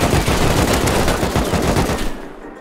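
Gunfire in the survival video game Rust, a loud, dense continuous barrage of rapid shots for about two seconds, then cutting off abruptly.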